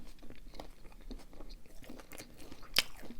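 Bites and chewing of a sandwich of lightly toasted bread topped with sprats, faint soft crunches and mouth sounds close to the mic, with one sharp crisp crunch near the end.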